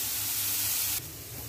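Oil frying in a pan over a gas flame, a steady bright hiss and sizzle that drops abruptly quieter about a second in, close and alone.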